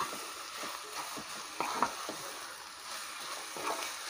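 Chinese potato (koorka) stirred and frying in a pan over a lowered flame, a steady soft sizzle with scattered scraping stir strokes and a couple of louder clatters, close and moderately quiet.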